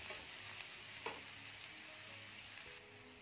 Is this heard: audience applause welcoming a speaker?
no